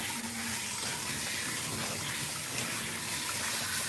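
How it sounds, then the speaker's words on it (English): Water spray at half power rinsing a short-haired cat during grooming: a continuous, even hiss and splash of running water, close and steady throughout with no voices. "We also have the water spray at half of the power"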